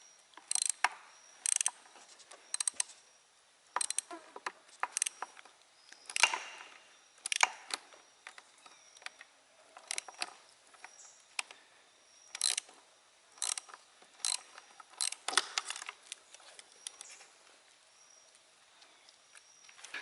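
Socket wrench ratcheting on a carburetor bolt of a drowned outboard motor, bursts of quick clicking strokes in uneven runs, close and fairly crisp, with no talk.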